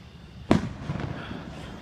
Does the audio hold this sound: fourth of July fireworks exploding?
yes